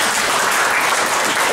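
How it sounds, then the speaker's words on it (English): A massive round of applause from the audience at an International Day Against Homophobia event at Birkbeck College, London: loud, dense, sustained clapping with no gaps. "So I'd like to give a massive round of applause to..."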